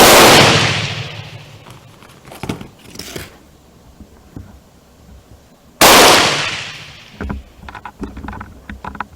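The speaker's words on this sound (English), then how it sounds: "I'm going to try it and see what kind of speeds I get. And as most of you know, I'm shooting at 50 yards" Two loud, sharp gunshots from a Swedish Remington rolling block 1867 rifle fired outdoors at a 50-yard range, each a sudden blast with a long decaying tail, the second about six seconds after the first, followed by faint clicks and handling noise.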